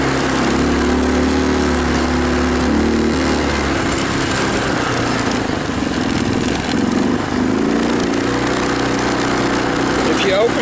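A Tao Tao Bull 150 ATV engine with a carburetor needing a rebuild runs continuously at close range, its buzzing drone shifting pitch as the throttle is worked, with a voice talking over it.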